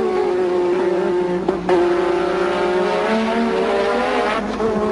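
Formula 1 race cars at the 1986 German Grand Prix, a loud, sustained high-pitched engine scream from cars racing close by, holding steady pitch with a brief shift midway.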